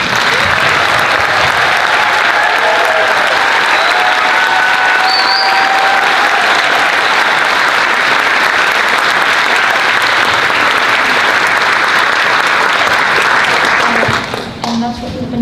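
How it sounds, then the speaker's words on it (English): A large audience applauds visual arts students at a youth final performance session, steady dense clapping with cheers and whistles lasting about fourteen seconds before cutting off abruptly. "could we have the visual arts kids stand up and everybody give them a round of applause as well?"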